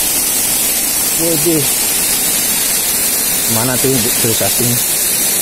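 Dedari waterfall in Bangli, Bali roars as a loud, constant broadband rush of falling water close by, with people talking briefly over it.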